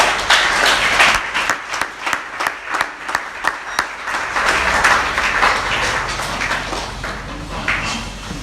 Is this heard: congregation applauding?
yes